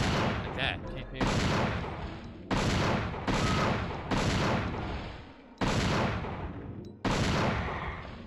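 Gunfire in Dino Crisis 2, a run of loud, heavy shots fired every second or so, each a broad booming blast with a decaying tail, close and dominant.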